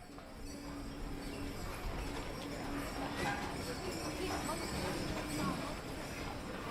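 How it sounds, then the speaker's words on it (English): A horse-drawn carriage clip-clops through the car-free streets of Zermatt in the Swiss Alps, a steady hoof rhythm under a busy town hum, with people talking around it. "People get around in horse-drawn carriages and small electric vehicles."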